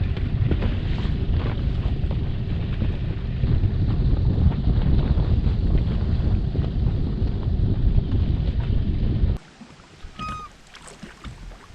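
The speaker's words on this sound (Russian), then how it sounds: "К 9 часам ветер усиливается и разгоняет волну." Strong wind blowing on the Volga river, a loud continuous roaring buffet across the microphone for most of the stretch, then cutting out abruptly to a much quieter open-air background with a faint high chirp.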